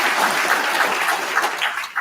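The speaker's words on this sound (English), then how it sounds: "Let's give your family and friends a round of applause." A crowd applauds at a police promotion ceremony, a dense and steady burst of clapping held at an even level for the whole two seconds.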